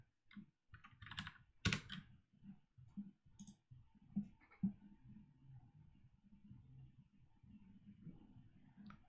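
Keyboard keys are typed in short irregular bursts with pauses between, close and clear, with one sharper click standing out early on, during coding work on a P5JS Pong game.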